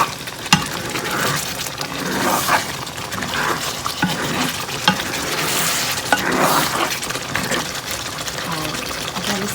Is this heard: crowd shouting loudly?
no